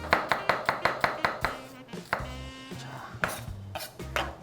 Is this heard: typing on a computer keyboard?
no